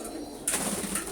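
Pigeon cooing close by, entering abruptly partway through after a quiet start and continuing as a soft, steady murmuring call.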